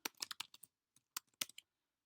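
Short, quick keystrokes on a computer keyboard, close and fairly quiet, in two uneven bursts with a brief pause between them and no voices.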